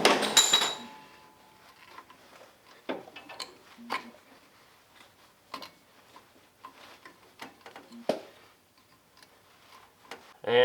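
A socket wrench ratchets on an old spark plug of a worn snowmobile, giving sparse, close metallic ticks and clicks with short pauses between turns.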